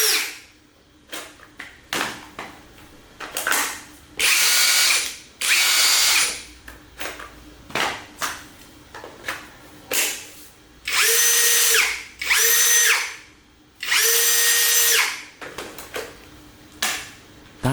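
Cordless drill powered by a DIY 20V 20Ah high-discharge battery pack, running in repeated bursts of a few seconds each, loud and close, with short pauses and clicks between the runs and no talking.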